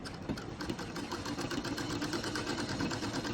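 A sewing machine stitches pleats into a kameez, running in a steady, close, rapid mechanical whir with a fast even rhythm and no pauses.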